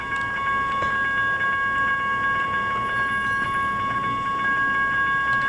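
Amtrak passenger train in the Trainz simulator rolling to its first stop at Milford on the CSX Siagan subdivision, a steady rumble with faint rhythmic rail clicks and a high tonal hum, no voices.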